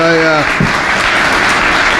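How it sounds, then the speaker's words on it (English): A crowd applauds steadily with dense, continuous clapping, and a voice is briefly heard at the start. "Another round of applause."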